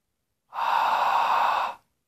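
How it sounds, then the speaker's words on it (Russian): A single whispered 'A' breath of the kind used in ashtanga yoga, a soft, steady breathy hiss lasting just over a second, close and isolated in silence. "сделать звук А шепотом"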